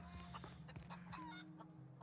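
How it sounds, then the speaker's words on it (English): Chickens cluck and murmur in a video game, The Outer Worlds, with repeated short clucks and calls over a steady low ambient hum, moderately close and quiet, with no talking. "Why do you have chickens wandering the streets?"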